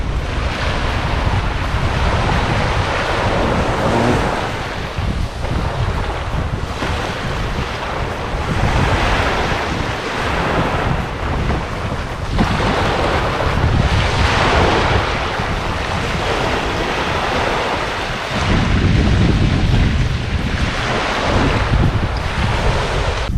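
Ocean surf rolls in at the shore in continuous loud washes while heavy wind buffets the microphone and masks much of the detail; no voices are heard.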